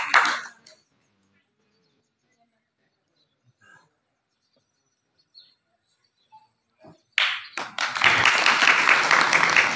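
Audience applause bursts out loudly near the end and continues steadily, following a short burst at the start and mostly quiet gaps with faint scattered noises, at a temple gathering celebrating a couple.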